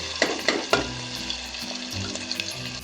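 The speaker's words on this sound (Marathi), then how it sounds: "कांदा चांगला असा लालसर तळून घ्यायचा" Finely chopped onion frying in oil for a village-style black masala mutton curry, a continuous close sizzle with a few sharp clinks of a spoon stirring the pan early on.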